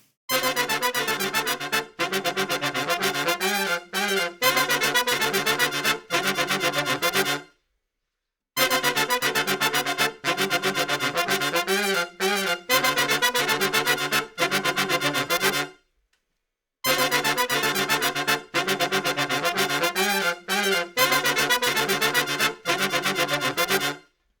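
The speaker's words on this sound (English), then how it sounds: "It's like 3 octaves of horns." Two horn sections spanning three octaves play together in a dense, punchy brass texture, repeating in phrases with short gaps of silence between them.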